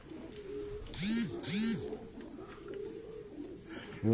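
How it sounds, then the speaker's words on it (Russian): An Uzbek pigeon gives two clear, rising-and-falling coos close by, with a third call starting at the end over soft background noise. "Голубь, самец."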